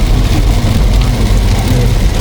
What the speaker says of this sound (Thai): ฝนตกเยอะเลยนะ